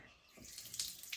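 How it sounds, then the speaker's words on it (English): Water runs and splashes into a toilet cistern as it refills after a plumbing repair in an old abandoned Irish house, a soft close trickle with a few brighter splashy bursts. "The toilet is filling."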